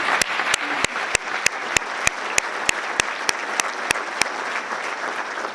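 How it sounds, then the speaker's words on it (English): Applause from an audience at a gun violence survivors summit hosted by the ATF, a steady dense wash of clapping lasting several seconds, with sharp regular clicks standing out above it at an even beat. "can we please give another round of applause to the great ATF team?"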